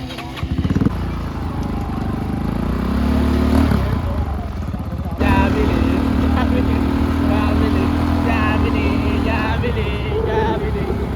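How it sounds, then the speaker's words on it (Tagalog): Motorcycle engine running close by during a ride, with a steady loud drone that shifts pitch as the bike changes speed, while people talk over it. "Gamit natin motor ni Herbert."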